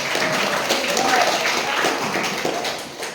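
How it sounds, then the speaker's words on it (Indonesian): Junior high school students clapping together at an outreach session at SMPN 2 Lampasio: a thick, continuous wash of applause filling the room, with voices mixed in. "Tepuk tangan semuanya."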